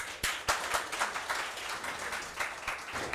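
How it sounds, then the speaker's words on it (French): A small school audience claps at a televised quiz match between lycée teams, a sparse, uneven patter with a few distinct loud claps standing out from the lighter clapping. "on applaudit"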